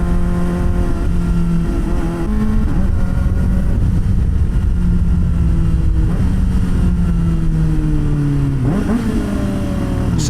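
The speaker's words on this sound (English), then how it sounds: "I gotta say, it is one of the better sounding modern sport bikes, though." Kawasaki ZX-4RR sport motorcycle engine revving hard at speed, a loud, steady high-pitched onboard howl whose pitch climbs and drops through gear changes, with no talking.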